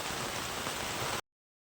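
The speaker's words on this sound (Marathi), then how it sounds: "खूप सारा पाऊस आहे" Dense, steady hiss of heavy rain pouring down, loud and unbroken, cutting off abruptly after about a second.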